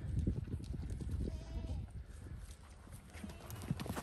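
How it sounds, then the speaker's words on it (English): Goats shuffle around a pen with irregular hoof clops and thumps and a faint bleat, close by, as people talk quietly. "we got the goats on the other side of the fence, but two of them ended up getting back in"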